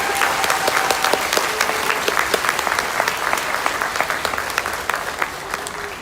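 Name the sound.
audience applause for the university at a choir concert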